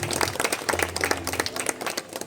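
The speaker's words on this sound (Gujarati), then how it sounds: "તાળીઓના ગડગડાટથી વધાવી લેજો." An audience claps in welcome at a YouTubers' meetup in Gujarat in 2025, with dense, fairly close applause from many hands that stays steady for a couple of seconds.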